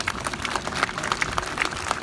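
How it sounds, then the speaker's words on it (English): A small audience at a memorial anniversary event by a Comfort Women statue breaks into applause, with close, distinct claps that keep up as a lively, uneven patter. "Let's give him a round of applause."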